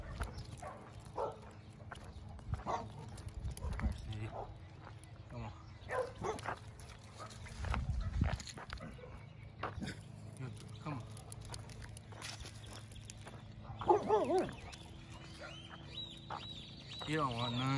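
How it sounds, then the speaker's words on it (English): A loose dog barks at intervals from a nearby yard, the sharp barks mixed with clucking fowl and steady outdoor background noise, with people talking now and then. "We got a loose dog over here."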